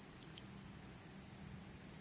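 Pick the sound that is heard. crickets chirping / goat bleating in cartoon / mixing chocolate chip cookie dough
crickets chirping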